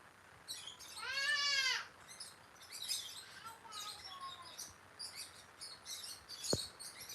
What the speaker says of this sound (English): My bird's driving me crazy right now.